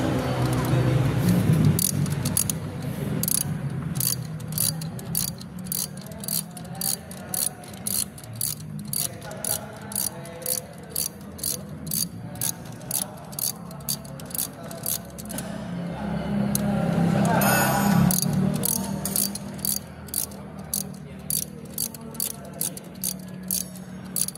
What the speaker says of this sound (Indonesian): Lalu ganti mata sok yang lain ukuran 1/2 inci dan lakukan pembongkaran lagi pada baut yang satunya.